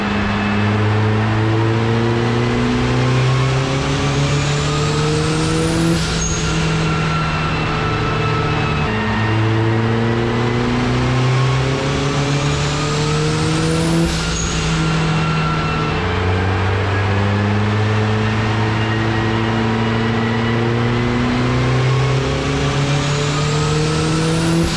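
A turbocharged Citroën Saxo accelerates hard through repeated gear changes, engine pitch climbing in long sweeps and dropping at each shift, loud and close, running continuously with no one speaking.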